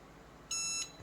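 A Xiaomi Mi Hub smart home hub gives a single short electronic beep, clear and moderately loud against a quiet room, signalling it is ready for setup.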